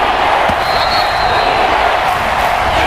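A loud Seahawks home crowd roars in the red zone in Madden NFL 22. The stadium noise is a dense, unbroken wash that stays at an even level throughout.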